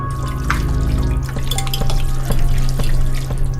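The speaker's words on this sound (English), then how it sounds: "Now what we want to do is just mush it up with a fork" Gelatin that is almost fully set gets mushed up with a fork, giving wet squishing and small clicking taps over a steady low hum.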